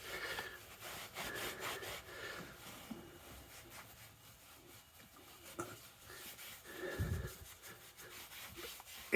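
Faint, irregular rubbing strokes as metal surfaces in an engine bay are wiped clean by hand, soft scuffing bursts at close range with quiet gaps between.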